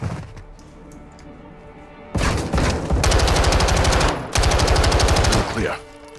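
Call of Duty Modern Warfare II gunfire comes in two long, loud bursts of rapid automatic shots, split by a brief pause. Quieter room tone comes before the bursts and after them.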